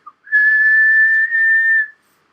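A single sustained whistle from a person blowing into a microphone holds one piercing, steady pitch for about a second and a half. It is loud and close.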